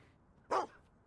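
A dog in the Fable 2 video game gives one short, sharp bark, close and clear against a quiet game background.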